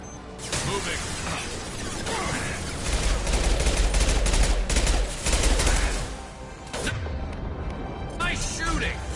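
Sustained gunfire in the video game Mass Effect 2: a dense, loud fusillade of rapid shots and mechanical clatter that swells mid-way and then thins out, with voices talking through the battle.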